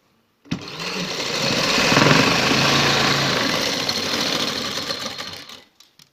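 A sewing machine stitches a border design along the side slit of a shirt in one continuous, loud, close run, starting and stopping sharply.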